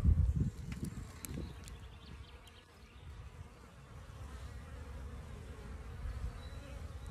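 Honeybees hum steadily around the fourth beehive during a winter colony check, a continuous close buzzing drone that follows a brief loud thump at the start.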